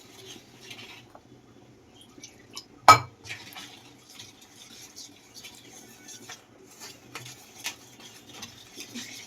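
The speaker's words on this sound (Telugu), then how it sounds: "ఇప్పుడు అలాగా వాటర్ వేసుకుంటూ కలుపుకోవడం" Hand mixing dough with water in a bowl: scattered light clinks and taps with one sharp knock early on, fairly quiet and close, with no talking.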